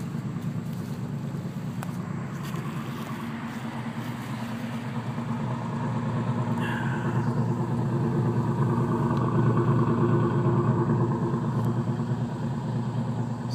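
A 1981 Pontiac Turbo Trans Am Special Edition engine runs steadily with a deep, throaty rumble, close and loud, growing a little stronger about halfway through, with no talk over it.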